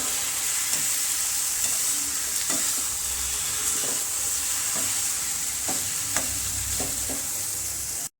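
Dhaba-style paneer bhurji sizzles steadily in a pan with fried onion masala, while a spatula scrapes and stirs it in repeated, evenly spaced strokes. The frying is close and continuous, with no talking.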